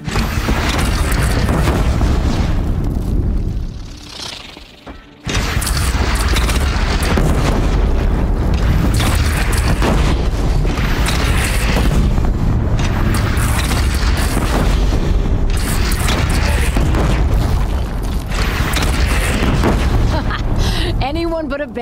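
Cannon blasts and explosions from a bandit battle in Horizon Zero Dawn roar almost without pause, dense and loud, dropping briefly into a quieter lull near the fifth second before the booming resumes, with voices mixed into the din.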